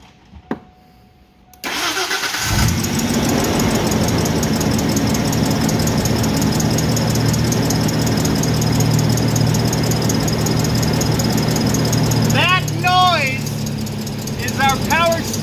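A Lincoln Mark LT pickup engine cranks and catches after a quiet moment, then settles into a loud, steady idle, with a squealing belt or pulley chirping intermittently over the running engine near the end.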